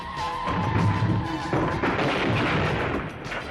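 A loud, booming film sound-effect explosion of a van bursts and rumbles on with crackling debris, followed by a second heavy blast that fades into a lingering roar.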